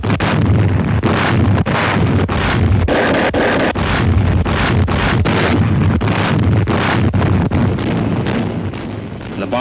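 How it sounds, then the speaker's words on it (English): Big guns bombard beaches in a series of heavy, distorted booms over a continuous roaring rumble like wind buffeting a microphone. "The more those big guns pounded the beaches, the fewer Japs there would be to meet us"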